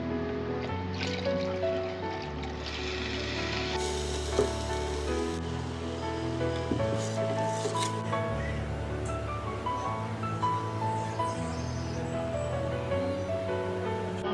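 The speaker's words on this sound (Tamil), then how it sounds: "மீதி தண்ணி ஊற்றிக்கலாம்." Water poured into a simmering Kerala fish curry masala in a pan, a continuous hiss and trickle with a steady low bubbling sizzle throughout, fairly quiet and without talk.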